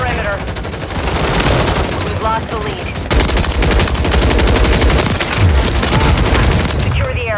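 Sustained gunfire in Call of Duty Modern Warfare 3 Hordepoint on PC, rapid machine-gun bursts forming a loud, continuous fusillade with occasional deeper booms mixed in.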